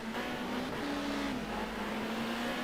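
Touring race cars at Oran Park race past with a loud, sustained engine drone that rises and dips slightly in pitch as they accelerate and ease off, with no talking.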